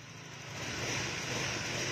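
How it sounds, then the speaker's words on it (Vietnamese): A car engine with a freshly remapped ECU file fires up and runs, its broadband roar building in loudness over a couple of seconds and then holding steady, close by with no talk. "Chúng ta sẽ nổ máy Anh em nhìn tiếng này"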